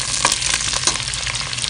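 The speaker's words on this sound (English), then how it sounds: "Panaskan minyak, heat the oil, put in all your sliced ingredients, onion, garlic and stir fry." Sliced onion and garlic stir-fried in hot oil for a ridge gourd soup, giving a loud, close, continuous sizzle with quick scraping taps of the spatula.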